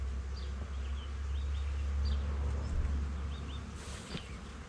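Honey bees hum as a steady, close buzzing drone while a colony is being moved into a new hive, with faint bird chirps and brief rustles over a low rumble.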